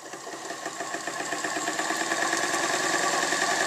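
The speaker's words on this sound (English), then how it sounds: "we're going to touch it on the armature and see if this generator goes around." The generator from a 1952 Chevy Styleline, bench-tested as an electric motor, spins up with a steady mechanical whir and hum that grows slightly louder and holds at speed, close and alone.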